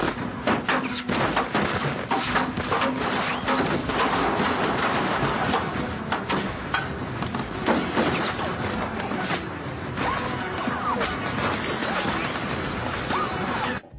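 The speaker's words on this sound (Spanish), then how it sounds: "Un tiroteo y él caminando." A dense, sustained shootout from a TV drama scene near a hotel, with rapid overlapping gunshots and bursts crackling continuously and loudly throughout.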